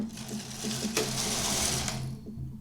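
A knitting machine carriage runs across two rows, a close, steady whirring and rattling sweep lasting a couple of seconds before it stops.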